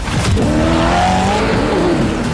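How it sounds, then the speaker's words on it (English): A sports car with a twin-turbocharged V8 engine accelerates hard, a loud, close, rising engine roar with climbing pitch sweeps through the gears and constant road noise. "The reason this car is one of the fastest on the planet is because of its twin turbocharged V8 engine"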